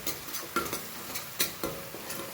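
Onions and tomatoes sautéing in a pan for a Gujarati dish, with a soft continuous sizzle broken by several distinct scraping stirs and light utensil clinks, close and fairly quiet, no talking.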